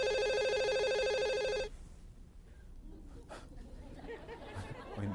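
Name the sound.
telephone ringing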